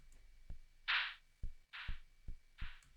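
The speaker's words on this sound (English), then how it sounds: "the more shakery one, just down 2 octaves and going down in velocity" Shakery counter snare pitched down two octaves with falling velocity, giving a few soft breathy hisses spaced by low thumping kick beats in a slow groove, faint and alone.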